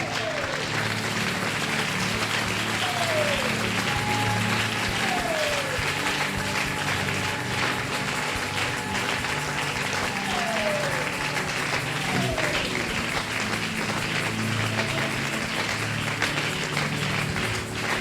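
A church congregation on its feet claps and cheers in sustained, dense applause, with voices mixed through the crowd and occasional brief whistle-like sweeps.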